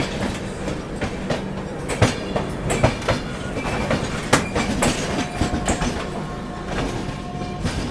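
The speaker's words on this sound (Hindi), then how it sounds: "चलिए निकल गई उदयपुर सिटी पाटलिपुत्र हमसफ़र एक्सप्रेस।" The Udaipur City–Patliputra Humsafar Express, a long-distance train in Humsafar livery, rolls past close by with continuous rumbling and repeated sharp clickety-clack wheel beats over rail joints, heard alone without talk.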